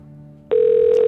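A single loud electronic ring tone starts abruptly after a soft hum and holds steady, close and bright.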